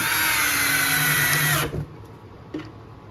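A Hyper Tough 12-volt cordless drill running on a 1.5 amp battery whines loudly and steadily while driving screws, then stops abruptly, leaving only a faint clunk afterward.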